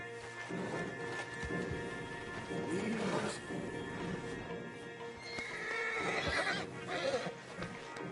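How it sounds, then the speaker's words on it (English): A horse in Red Dead Redemption 2 whinnies loudly over the clip-clop of hooves and busy outdoor game ambience, with calls rising and falling throughout. "Marston, you're gonna tether him up to Javier's horse"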